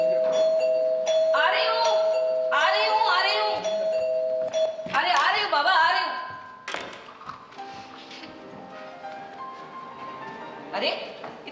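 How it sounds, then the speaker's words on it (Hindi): Doorbell chimes ring out in a Hindi stage play, a loud bright ding-dong tone repeating several times near the start, followed by quieter movement and room noise. "घंटी सुनते ही मैंने सोचा भला अभी कौन आया होगा"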